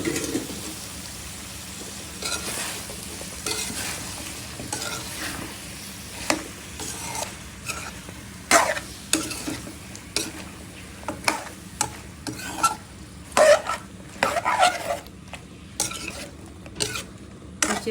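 Eggplant, potato and flat beans are stirred in a frying pan, with repeated spatula scrapes and clatters over a low, steady sizzle and faint bird calls in the background.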